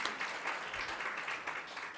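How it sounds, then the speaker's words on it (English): Brief, faint audience applause at an education event, a soft patter of clapping from a room of people heard at a distance for a couple of seconds. "A clap as he joins us."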